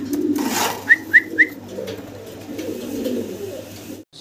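A pair of fancy pigeons of the Mundian breed coo softly, with three short rising coos close together over a low background hum.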